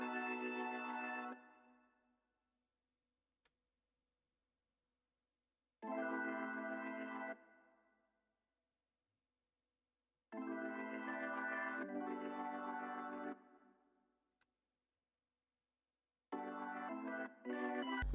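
UAD Waterfall B3 organ on an American Gospel preset, playing sustained chords in four separate phrases with silent gaps between, warm and full with a slightly trembling tone, heard alone at moderate level.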